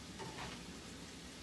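Bread for a Philly cheesesteak browns in a pan with a soft, quiet, steady sizzle that lasts only a moment, with no voices.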